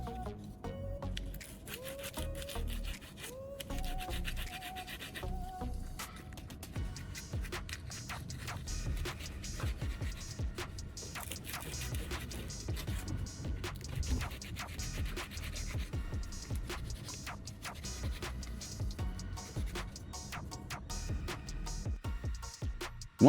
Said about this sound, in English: I'm using sandpaper to thoroughly clean the terminals.